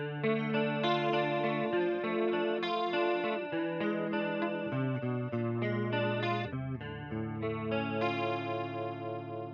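Electric guitar chords shimmer through a chorus pedal, giving a wavering, swirling tone with steady strums that ring out and change chords over several seconds.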